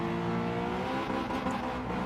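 Race car engines roar in Gran Turismo 7 as an NSX and other cars jostle on track, with steady droning engine tone and revving throughout, loud and close.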